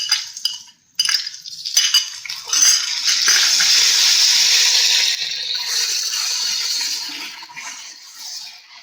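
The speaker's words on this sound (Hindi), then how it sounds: "अदरक और लहसुन का पेस्ट डालते ही हम इसे भी हल्का सा फ्राई करेंगे।" Ginger garlic paste going into frying onions in a pan, with spoon scrapes and clinks at the start, then a loud steady sizzle that slowly fades.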